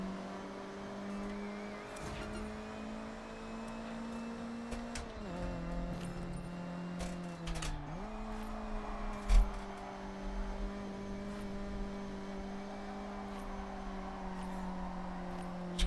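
A car engine in Forza Horizon 6 hums steadily at moderate revs, dipping twice as it shifts or lifts off and recovering, with a faint distant thump partway through and no talk.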